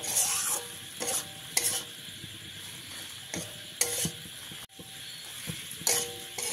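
Fried potatoes are stirred into spice masala in a hot pan: repeated spatula scrapes and knocks come in bursts over a continuous sizzle, nearby, with no voices.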